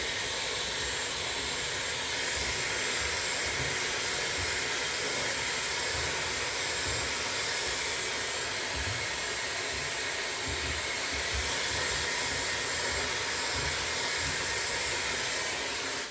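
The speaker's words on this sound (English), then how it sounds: "Always keeping your blow dryer above, pointing straight down." A blow dryer runs steadily the whole time, a loud, constant rushing whoosh of air with low buffeting underneath and no talking.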